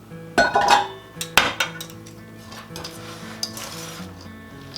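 A spoon stirs grated cheese into a hash brown casserole mixture in a bowl. It gives two sharp clinks against the dish, then softer scraping and mushy stirring sounds, close by, with no talk.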